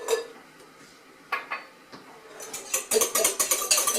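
A spoon clinks and scrapes against a bowl while nuts are stirred with imitation vanilla, sparse taps at first building into a quick run of close, bright clatters.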